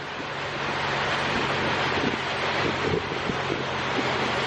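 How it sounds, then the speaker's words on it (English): Strong wind near an Alaskan glacier roars loud and constant across the microphone, a dense unbroken rush with faint low thumps underneath and no voices. "It's super windy out here, and so it's going to be hard for you guys to hear me."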